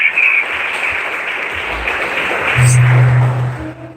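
Church congregation applauding in praise during a service, a dense, steady wash of clapping close and loud throughout, with a sustained tone underneath.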